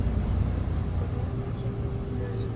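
Inside a moving bus in Gabon, a steady low engine rumble and road noise fill the cabin throughout, loud and continuous, with faint indistinct voices in the background.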